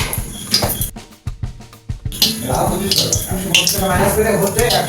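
Dried red chillies frying in a little oil on a gas stove for begun bharta crackle and sizzle close up, with pan clatter, a few sharp taps and a cooking voice talking over it.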